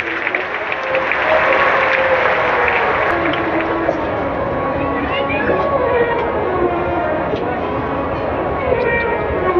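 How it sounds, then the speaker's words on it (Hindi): A large audience at a Shiva Mahapurana religious discourse applauds strongly, a continuous wash of clapping that holds steady for several seconds with tonal sounds and crowd noise underneath. "एक बार आपके लिए ही ताली बजा लो, बहुत जोरदार।"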